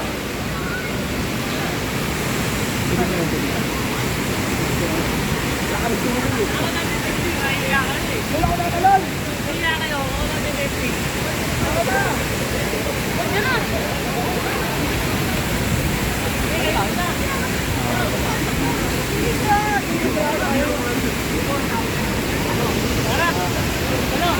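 Water pouring steadily at a waterfall called Kamay ni Jesus Falls, a loud continuous broadband rush that holds even from start to end, with faint voices now and then under it.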